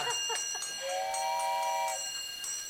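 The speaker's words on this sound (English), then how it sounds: "I hear the deal train coming." A train whistle blows one steady sustained tone lasting about a second, moderately loud, amid faint background noise with no talk.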